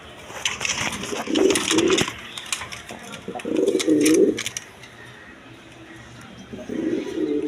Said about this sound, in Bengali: এক পেয়ার রাজগোল্লা কবুতর দেখেন